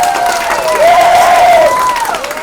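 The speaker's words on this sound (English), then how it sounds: "Let's get a round of applause for them." Comedy club crowd applauding loudly for parents in the audience, dense clapping mixed with cheers and whoops rising and falling over a couple of seconds, close and full.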